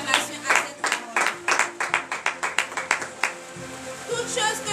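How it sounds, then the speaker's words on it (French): A church congregation claps in a rhythmic burst during a morning prayer service in Benin, with regular hand claps and background voices before it fades into speech-like sound. "Donnez de vive acclamation à cette parole"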